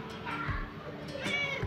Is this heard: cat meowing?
yes